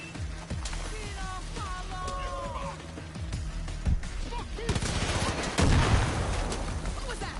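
Gunfire in the shooter game Far Cry New Dawn: steady stretches of shots and bursts with a sharper louder volley near the end, all under constant game music and effects.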